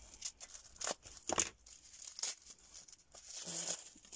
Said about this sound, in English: Scissors time